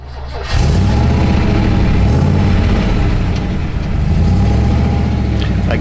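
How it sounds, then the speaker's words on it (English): A VN Group A car engine starts up loud and close, then holds a rough, throaty drone as the car drives off, its revs rising and falling in smooth waves. "now we'll pull up and we'll jump in the VN Group A and take it for a drive."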